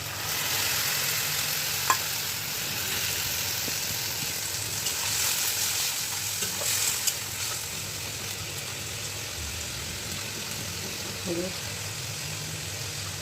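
Spice paste cooks with fried onion in a pan, a continuous hissing sizzle with occasional soft stirring scrapes and clicks, close by, while a voice murmurs faintly at times.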